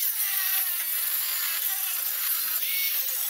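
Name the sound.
cutting a car exhaust pipe with a saw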